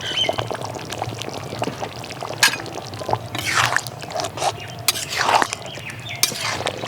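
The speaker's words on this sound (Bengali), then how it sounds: "আমি এখানে 1 চামচ মতো ঘি দিয়ে দিচ্ছি" A spoonful of ghee goes into a Bengali kosha aloor dum, a spiced potato curry, with soft wet squishes, scrapes and a few sharper spoon knocks in the pot, close by.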